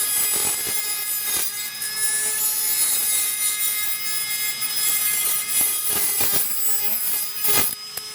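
A Dremel rotary tool cuts through coral frags with a steady high-pitched whine and repeated rasping, grinding bursts as the bit bites into the coral, close and loud, with no voices.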